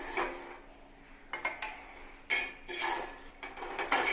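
Sautéed ingredients for a mutton gravy are spooned into a mixer jar, making soft intermittent scraping and clinking bursts at close range, fairly quiet, with no one talking.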